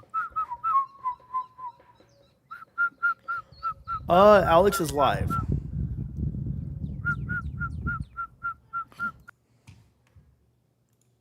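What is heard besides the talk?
bird calling outdoors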